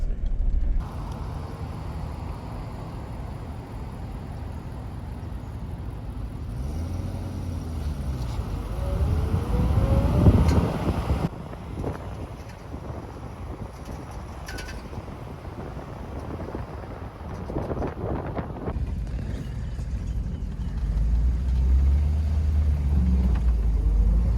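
A 1941 Buick Roadmaster convertible's engine cranks and catches, then settles into a steady low rumble that swells briefly midway and keeps running alone, close by.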